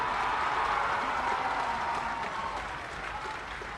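A large crowd applauds for Maharaj ji at a ghat inauguration ceremony in Gorakhpur, producing dense, sustained clapping that stays steady and fairly loud, easing slightly toward the end.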